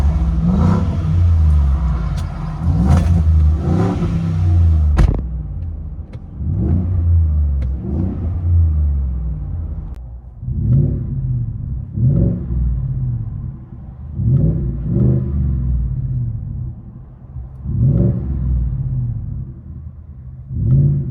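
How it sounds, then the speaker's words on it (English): A Ford F-150 5.0L V8 with a Corsa Pro Series exhaust, heard from inside the cab, is revved again and again: about a dozen loud, deep bursts that swell and fall back to a rumbling idle. "Corsa Performance muffler installed. Muffler swap Ford F-150"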